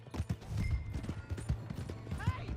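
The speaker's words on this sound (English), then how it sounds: "Hey, that's my horse!" Horse hooves clip-clop in Red Dead Redemption 2, a steady trotting rhythm running through the whole stretch, fairly close, with a brief whinny near the end and a shout over the hoofbeats.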